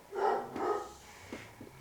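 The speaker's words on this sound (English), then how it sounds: "barked at the last time you guys asked another question" A dog gives two or three short muffled barks inside an old haunted inn and tavern, followed by a couple of fainter yips, heard at a modest distance in a quiet room.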